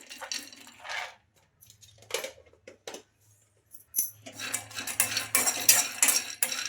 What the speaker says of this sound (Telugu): కడాయి పెట్టేసుకుని అందులో పల్లీలు అయితే వేసుకుంటున్నాను